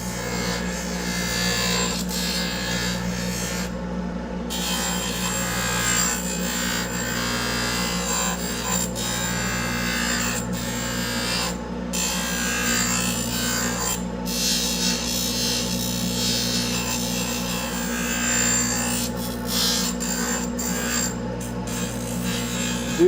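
Dental lathe with a coarse wheel trimming the border of an acrylic orthodontic retainer, a steady motor hum with continuous rasping grind close by, lasting throughout.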